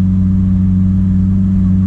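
Lamborghini Aventador S Roadster with a louder exhaust modification gives a loud, steady, deep engine rumble that holds close and constant throughout, with no talking.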